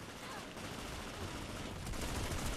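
Dense, continuous gunfire rattles in a Planetside 2 battle, a loud, unbroken wash of rapid shots that swells slightly toward the end.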